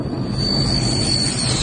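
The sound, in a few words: military plane landing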